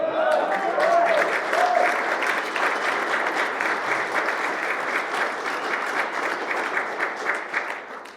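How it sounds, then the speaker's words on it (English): A crowd at a U.S. Army brigadier general promotion ceremony breaks into steady, dense applause with some cheering, sustained for several seconds before gradually thinning at the end. "The crowd goes wild."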